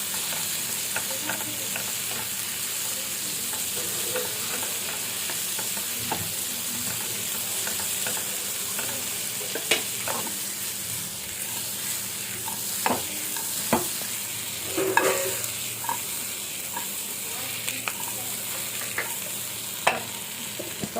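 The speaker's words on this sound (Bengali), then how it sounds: "মিশিয়ে নেব অনেক সুন্দর একটা মিষ্টি গন্ধ বাটারের সাথে গার্লিক আর ভেজিটেবলের" Vegetables with butter and garlic are stirred and tossed in a pan, a continuous sizzle running under repeated scraping clicks of the utensil, close and alone without talk.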